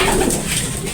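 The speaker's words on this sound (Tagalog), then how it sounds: "So ito yung mga stock bird niya." Stock pigeons kept in a breeder cage give a soft, close, continuous cooing over about a second.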